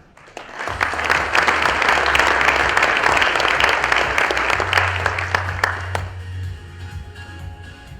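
A seated audience at a tech and business expo presentation breaks into sustained, even applause that swells quickly, holds for several seconds, then tapers off into scattered claps.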